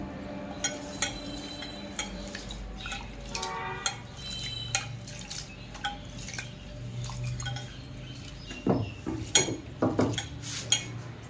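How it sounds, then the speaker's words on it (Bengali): Mung dal being washed in water in a home kitchen, with repeated clinks of a metal bowl and soft splashing and dripping, close and fairly quiet, growing livelier toward the end. "এই মুগ ডালটাকে সুন্দর করে ধুয়ে নেব।"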